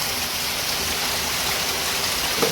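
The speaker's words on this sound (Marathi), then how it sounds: "मंडळी पाऊस बघा थांबतच नाही. दुसरी सर आहे लागोपाठ. थोडीशी कमी होते परत जोरात आला." Heavy monsoon rain pours down on a Konkan village, a dense, steady roar of water that holds at the same loudness throughout, with no voices.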